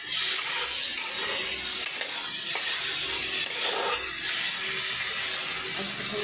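Eggs and potatoes sautéing in spiced masala for a Bengali egg curry, a steady close sizzle of frying with the scrape of stirring running throughout, no voices.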